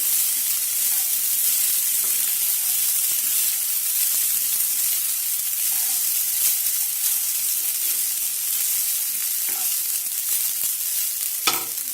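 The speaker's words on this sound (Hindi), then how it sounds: "2 मिनट के बाद हम उसमें डालेंगे राइस। अच्छे से मिक्स करेंगे।" Fried rice with peas, cashews and paneer sizzles steadily in a pan as it is stir-fried, with occasional utensil scrapes and a sharp clack near the end; close and continuous, no voices.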